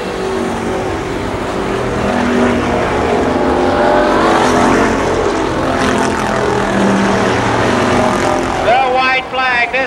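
Stock cars battling for the lead at Columbus Motor Speedway in 1993, a dense, continuous engine roar rising and falling as the pack circles, with an announcer talking over it.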